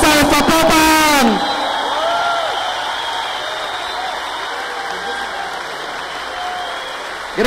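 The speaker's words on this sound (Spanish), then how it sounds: "Un aplauso para la orquesta de Zapopan." Audience applause for the Zapopan symphony orchestra at an opening show, a broad steady wash of clapping and crowd noise that follows a brief loud musical flourish and holds evenly to the end.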